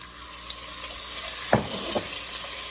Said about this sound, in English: I have 1 teaspoon of olive oil heating up, and it is nice and hot. So I am just going to put in our stew beef.